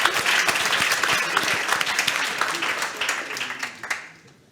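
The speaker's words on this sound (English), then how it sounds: "You can clap for his question." Audience at a pre-budget consultation with Canada's federal finance minister clapping for a question, a burst of crisp, dense applause that holds steady and then tapers off to near silence at the end.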